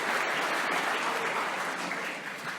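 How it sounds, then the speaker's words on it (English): A room of audience members at a school founders day address breaks into steady applause, a dense wash of clapping that holds evenly and tapers slightly near the end. "I think that deserves a round of applause"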